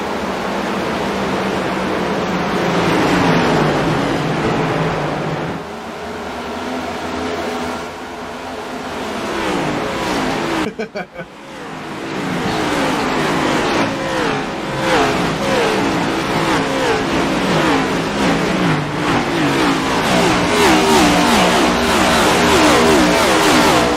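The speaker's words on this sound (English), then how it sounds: "We're going to listen to all the sounds of these cars go around this just underneath a mile track here at Richmond Race." Next Gen NASCAR race cars roar around Richmond's short track of just under a mile, a loud, continuous wash of engines that swells and fades as the pack passes, with a brief dip partway through.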